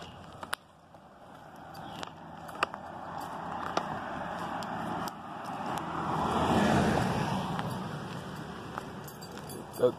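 Cars pass along a road outside on a sunny day, a vehicle swelling and fading in the middle, with scattered clicks and jingling sounds nearby and a dog's owner nearby.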